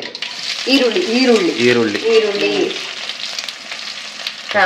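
Finely chopped onion hits hot tempering oil in a pan over high heat, giving a loud, continuous sizzle and crackle while someone talks over it.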